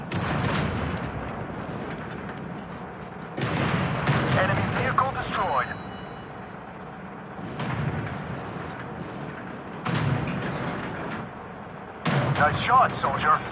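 Tank cannon fire in the tank battle game Tank Company comes as several heavy booming shots spaced a few seconds apart, each with a loud blast and a rumbling decay, with voices talking in the background.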